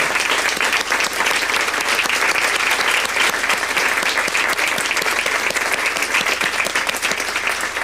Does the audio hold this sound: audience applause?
yes